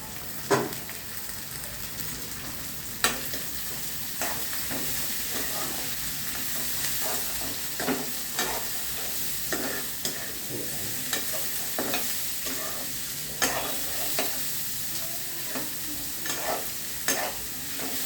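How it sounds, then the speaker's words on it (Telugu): Bottle gourd pieces fry with a steady sizzle in a pan, broken by repeated scraping clicks of a spoon stirring them at an uneven rhythm, close and moderately loud with no talking. "ఇవి కూడా వేస్తున్నా సొరకాయ ముక్కలు."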